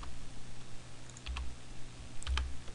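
A few soft, isolated keystrokes on a computer keyboard in a quiet room, two small clusters of clicks over a low steady hum.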